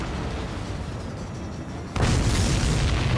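A supply ship blows up in Ace Combat 7: a dense, roaring wall of explosive noise that holds steady, then surges louder into a heavier, sustained blast partway through.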